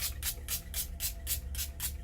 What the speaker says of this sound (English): last but not least, this setting spray, the Peach Mist